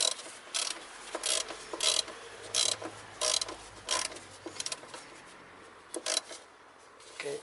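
A ratchet wrench works loose the throttle body bolts on a 2000–2010 Toyota Corolla, giving close, crisp bursts of rapid clicking in short repeated strokes with brief pauses between, no voices.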